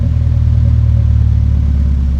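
Car engine running high and steady during a launch control test with an ECU mod, a loud continuous near drone with no speech over it.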